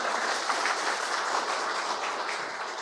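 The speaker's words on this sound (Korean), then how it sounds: "박수 보내주시겠습니까?" An audience at a researcher award ceremony gives a welcoming round of applause, a dense, even roar of many hands filling the hall throughout.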